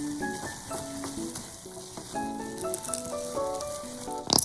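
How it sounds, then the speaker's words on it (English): Japanese-style curry roux mixed and heated in a pan, giving a steady close sizzle with repeated stirring scrapes, a brief louder clatter near the end, and tonal background music playing throughout. "Mix and heat for about 15 minutes until it has thick texture"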